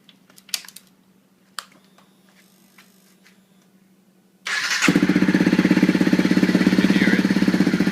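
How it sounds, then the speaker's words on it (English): Modified Honda CRF250L motorcycle with its backfire screen removed: a few faint clicks and handling noises, then the engine fires abruptly and settles into a loud, close, rapid steady thump. "give you a little bit of a sound, let's go ahead and crank it up."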